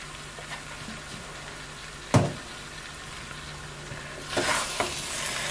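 A dish sizzles quietly in a cooking pan while a spoon scrapes and stirs it, with one sharp clack and a louder burst of stirring near the end.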